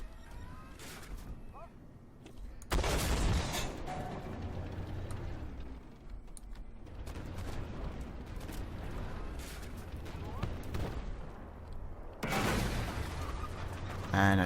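Tank cannon fire in the Armored Warfare video game, featuring a Type 98 main battle tank: loud booming blasts with crashing impacts at around three and twelve seconds, joined by rumbling engine noise and a voice talking throughout.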